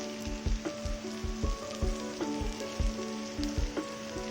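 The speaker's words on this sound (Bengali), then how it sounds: "এখানে আমি দিচ্ছি রসুন বাটা" Garlic paste dropped into a pan of fried onions gives a steady, close sizzle, with soft regular knocks of stirring roughly every half second throughout.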